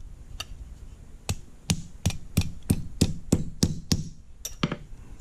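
Hammer part being fitted into a Remington Model 11 shotgun's trigger plate assembly, heard as a series of about eleven sharp, close metallic clicks and taps in an irregular rhythm, with no talking.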